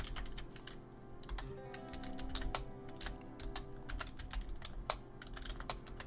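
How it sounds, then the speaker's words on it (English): Rapid typing on a computer keyboard during a live trading stream, a steady patter of close, crisp key clicks with a few louder strikes over a low background hum. "I'm going to type it in the chat."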